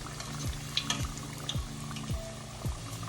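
Vegetable egg rolls fry in hot oil with a steady close sizzle and bubbling, broken by soft periodic stirring or turning sounds, with no voices.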